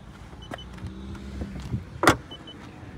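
The rear bench seat of a VW T-Roc diesel is folded down, with faint mechanical clicks and a sharp thump as the backrest latches into place near the end, all close in a quiet cabin.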